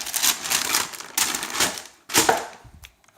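Crinkly rustling of TCX wax paper being pulled open inside a boot box, in three bursts of crisp crackling with short pauses between them, close and moderately loud.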